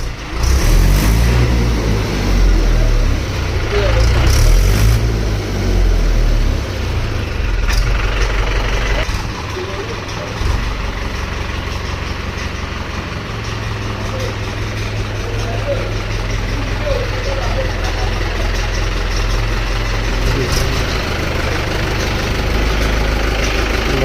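A Swaraj 575 Sarpanch tractor engine idles close by in a steady, loud, low diesel rumble that dips slightly partway through, with a faint voice in the background.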